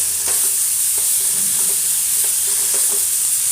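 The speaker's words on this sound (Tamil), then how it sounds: "அந்த பச்சை வாசம் போகிற அளவுக்கு நல்லா வதக்கிட்டுறணும்" Ridge gourd peel with ginger is being sautéed in a pan, giving a continuous close hiss of frying broken by several light scrapes of a stirring spoon, with no voices.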